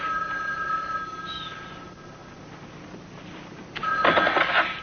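An old-style telephone bell rings in a bright, loud burst near the end of a quiet stretch of low room noise, with no talking.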